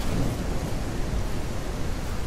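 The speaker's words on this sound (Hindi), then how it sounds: "ओ बिजली कड़की" Thunder crack and rumble during a dark storm in a video game, a steady, dense broadband roar with heavy low rumble filling the whole moment, no talking over it.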